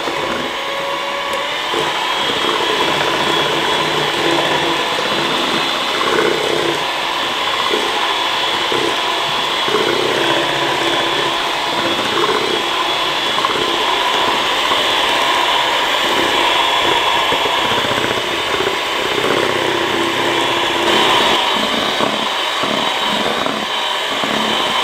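An electric mixer whisks cake batter for a steamed Dalmatian sponge cake at high speed, giving a loud, steady, continuous motor whir with no talking.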